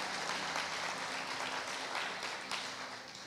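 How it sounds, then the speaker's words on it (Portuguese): A church congregation applauds, a dense, steady wash of clapping from many hands filling the room, slowly fading toward the end. "Vamos aplaudir Jesus pela vida deles"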